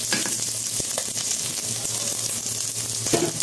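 Garlic and onion sautéing in a pan for a chicken gizzard and liver dish: a steady, close hiss of frying with a few sharp clicks of stirring utensils.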